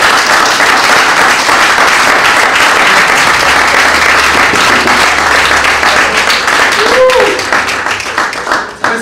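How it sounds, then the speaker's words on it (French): Church congregation breaking into sustained applause and acclamation, dense and loud throughout, with cheering voices mixed into the clapping before it thins near the end. "Il mérite vraiment des acclamations à donner."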